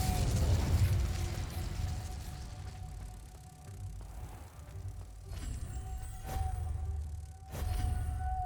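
Fiery bursts and whooshing blasts of the Incendio fire spell in Hogwarts Legacy, a loud opening burst followed by two sharp cracks later on, over a low humming background with no talk.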